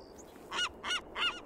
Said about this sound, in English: Fucking bird